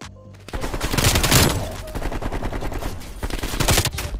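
Rapid automatic gunfire from an SMG during a Call of Duty Cold War hardpoint match, loud, dense, sustained bursts with a brief quieter moment at the start, no talking.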